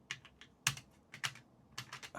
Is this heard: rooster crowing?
no